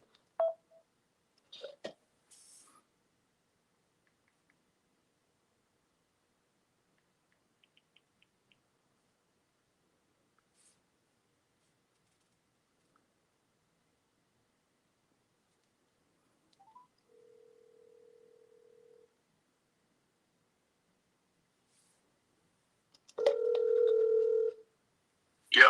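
A telephone call is placed: a few brief dialing tones at the start, a long near-silent wait with a faint short tone midway, then a steady tone a couple of seconds long near the end.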